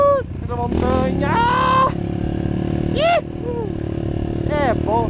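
A motorcycle climbing and descending a wet mountain road in the rain, its engine revving up and dropping through several gear changes, loud and close throughout.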